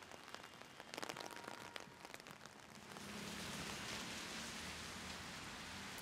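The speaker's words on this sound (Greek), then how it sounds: "τώρα βρέχει" Rain falls outdoors on a street, a steady hiss of drops that thickens partway through into an even, close downpour with no talk.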